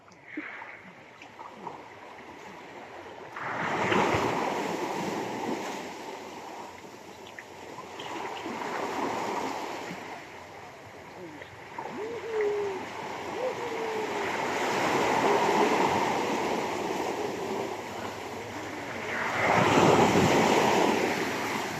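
Strong ocean waves surge onto a shore in repeated rushing swells that rise and fade, with wind buffeting the microphone and faint voices in the background.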